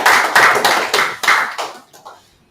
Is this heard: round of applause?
yes